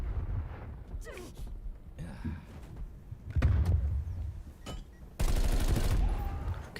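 Gunfire in a shooter game comes in scattered bursts, sharp cracks and short volleys separated by quieter gaps, with a loud sustained stretch of shooting near the end. Faint voice sounds sit under the shooting.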